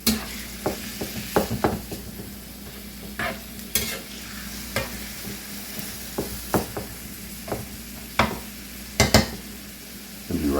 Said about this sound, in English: Now, I'm going to let this brown up real good.